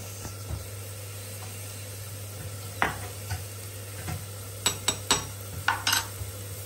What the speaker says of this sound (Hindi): तो प्याज हमारा ये ब्राउन हो चुका है अब हम इसमें मसाले ऐड करेंगे